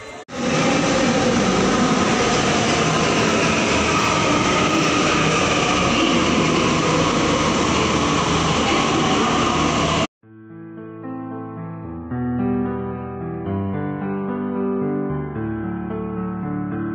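A Delhi Metro Yellow Line train runs with a loud, steady roar and rumble that cuts off abruptly, followed by quieter tonal chimes.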